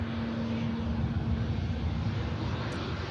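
An EasyJet Airbus A320neo airliner arriving from Belfast rolls off the runway at Manchester Airport, a steady, even engine roar with a faint tonal hum running underneath, no speech.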